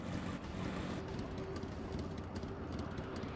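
Steady rushing wind of an air current high up in Final Fantasy XIV, a broad, continuous roar with faint gusty flutters, even in level and filling the whole stretch without any voices.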